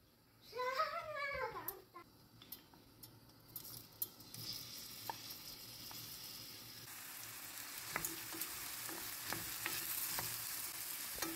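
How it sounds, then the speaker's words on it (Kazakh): Onions fry in oil in a pan and are stirred, giving a steady, close sizzle with repeated scraping and clicking from the utensil. A brief higher vocal sound is heard near the start. "Табаға май құйып, пиязды қуырамыз."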